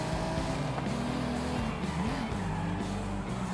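An old Ferrari accelerates in the racing game Forza Horizon 5, its engine droning steadily and close with the pitch rising and dipping through gear changes, loud and continuous with no talk over it.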